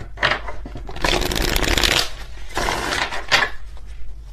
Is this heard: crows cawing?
no